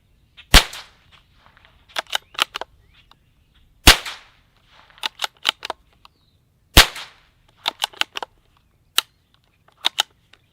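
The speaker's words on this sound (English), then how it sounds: "we're going to put a few supersonic rounds through here just so you can hear them" Three sharp, loud supersonic .22 LR gunshots from a Walther P22 pistol with a Bowers Bitty silencer, spaced a few seconds apart outdoors, each followed by quick clicks and metallic clatter of casings and the action.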